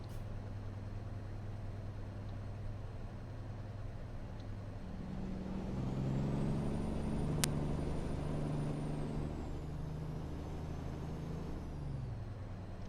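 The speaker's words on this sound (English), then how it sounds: "Jamming on the brakes." Truck in American Truck Simulator on a Mexico route braking hard, a low engine drone with a rising brake rumble midway and a sharp hiss of air.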